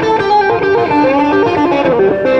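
Electric guitar played through a Vox Nutube amp's vintage channel with the gain cranked, giving a thick, distorted 80s-style tone; a continuous run of sustained, saturated chords and notes, loud and close, with no talking.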